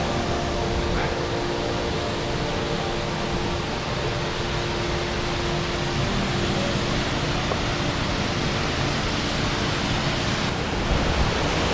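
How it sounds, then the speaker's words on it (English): The walk-under waterfall, number four on the Four Falls Trail in the Brecon Beacons, roars as a loud, steady broadband rush of falling water from nearby, unbroken throughout. "this is the waterfall that you can walk under"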